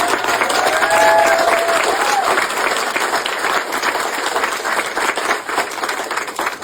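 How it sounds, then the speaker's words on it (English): An outdoor audience at a Gold Star Monument dedication in Zimmerman, Minnesota breaks into sustained applause, loud at first and then settling into a steady patter of clapping, with a few faint voices mixed in. "thank you very much for that applause."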